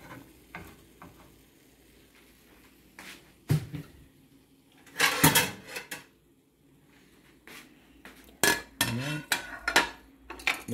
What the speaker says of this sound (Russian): Сейчас немножко возьму тарелку.